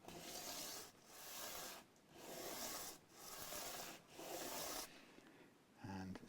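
Rhythmic back-and-forth rasping of fine sanding on a Stratocaster-style guitar's nut slot, close up, in about five even strokes with short pauses between them, with no talking.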